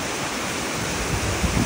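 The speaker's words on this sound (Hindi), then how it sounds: "अभी जो आप मेरे पीछे वाटरफॉल देख रहे हैं उसका नाम है बोरहिल।" Bor Hill waterfall in Meghalaya pours in a steady, dense roar of rushing water, broad and continuous with a few low rumbling surges toward the end, heard close with no voices.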